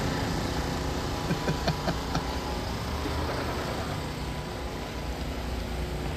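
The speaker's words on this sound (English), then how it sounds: "Here's a close-up of a tractor trailer" A tractor trailer's diesel engine idles nearby outdoors, a fairly quiet, steady rumble with a slight knocking vibration and a few faint clicks early on.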